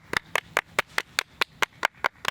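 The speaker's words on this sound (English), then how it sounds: "we hear like clapping in the distance" Rhythmic hand clapping, about a dozen sharp even claps at a steady pace, sounding somewhat distant with a faint background hum and no talking.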